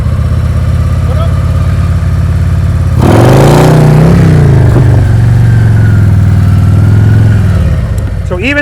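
A motorcycle engine during slow-speed riding practice, loud and close, droning steadily before revving up and rising in pitch midway, then holding a lower sustained note as the bike creeps along.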